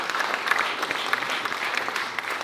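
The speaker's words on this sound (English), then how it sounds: "A big round of applause to you guys" An audience at a Malaysian education keynote claps continuously, a thick, even sheet of applause from many people with occasional sharper individual claps standing out.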